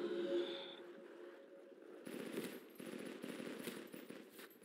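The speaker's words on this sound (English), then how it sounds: "Holy crap, this PDW just takes him right out." A PDW firing in a custom zombies map for World at War: quiet, rapid automatic shots rattling in a steady stream for about two and a half seconds, with a brief musical tone just before them.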